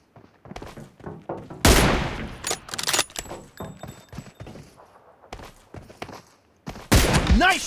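M24 bolt-action rifle shots in PUBG ring out as a few sharp, loud cracks spaced apart, interspersed with footsteps and light handling clatter, with a final burst of fire near the end.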